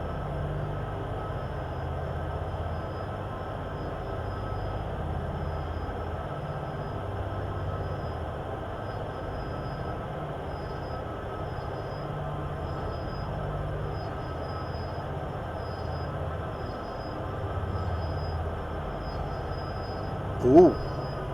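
A freight train rolls on the Sherman Hill line between Cheyenne and Laramie in Train Sim World 2, giving a steady low rumble of wheels and engine with a brief clank near the end.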